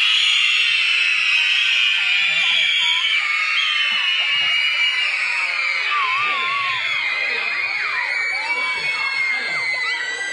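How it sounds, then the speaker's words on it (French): A children's audience at a young-audience guitar show lets out a sustained, loud, high-pitched collective scream that fills the room for the whole stretch, with shrill overlapping voices wavering throughout. "À 3, un cri très aigu tous ensemble"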